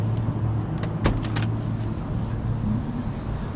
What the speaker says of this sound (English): I'm gonna open this door if you're all right with that.